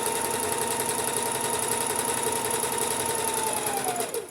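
A domestic sewing machine runs a quarter-inch seam allowance, a steady close-up mechanical whir of rapid stitching that holds evenly before slowing and stopping at the very end.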